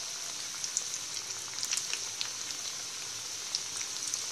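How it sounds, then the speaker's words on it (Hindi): Potato snacks deep-frying in hot oil over a medium-high flame, a steady bright sizzle with scattered small pops and crackles, fairly quiet and continuous. "अब हम इसमें स्नैक ऐड करेंगे और एक बार में जितने स्नैक फ्राई हो जाए उतने ही ऐड करेंगे और इसे हम मीडियम हाई फ्लेम में फ्राई करेंगे"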